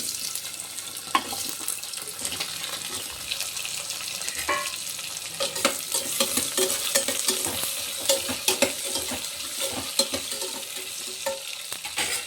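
Garlic frying in a pan with onions added, while a dry mango tamarind curry is cooked, gives a steady broadband sizzle with scattered stirring scrapes and clicks throughout, close and fairly loud, no voices.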